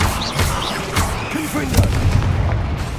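Bombarda spell blasts in the Hogwarts Legacy video game: booming magical explosions with whooshing, sizzling effects layered over busy game sound and a voice, loud and dense throughout.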